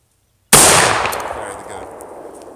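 A single loud, close blast from a PGO pump shotgun fired one-handed, a sharp report after silence that decays into a long ringing echo.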